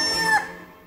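A rooster crows once, a loud, close, strained call that peaks and then trails off into quiet.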